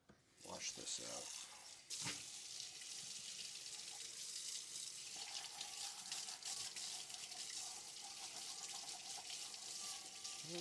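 Running tap water gushes steadily into a sink while a bowl is washed out under it, with some clatter at the start and a continuous close splash throughout.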